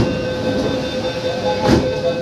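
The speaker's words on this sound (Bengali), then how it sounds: "আমাদের মেট্রোর গেট বন্ধ হয়ে গেছে, আর তার সঙ্গে সঙ্গে আমাদের মেট্রো চালুও হয়ে গেছে" A Kolkata underwater metro train pulls away from the platform between Esplanade and Howrah Maidan, heard from inside the carriage as a steady loud rumble with a brief hissing swell partway through.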